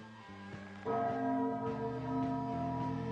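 A clock chimes the hour, a sequence of resonant bell-like strikes that swell after a quieter opening and ring out with long sustained tones, loud and close with no talk.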